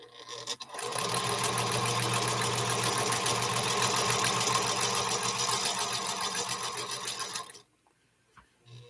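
A sewing machine chain-pieces quilt pieces in a fast, steady, close-up run of stitching for about seven seconds, then stops abruptly into near quiet.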